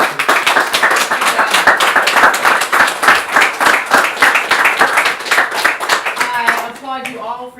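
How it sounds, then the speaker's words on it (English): An audience at a mastermind gathering claps steadily for several seconds, dense and close, with a voice speaking over the clapping near the end. "just give you guys a round of applause"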